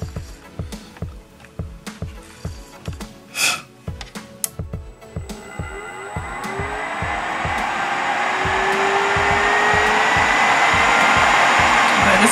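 A Melodysusie SC320F nail dust collector switched on and running at its highest speed, a steady loud fan whoosh rising after several soft thumps and handling noises.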